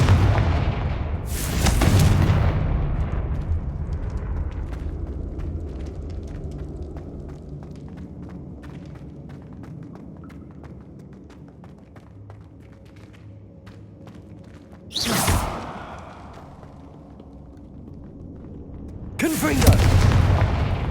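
Several Confringo spell blasts in the game Hogwarts Legacy, each a loud booming burst with a sharp crackling onset, spaced apart over a steady low rumbling background of ambient game sound.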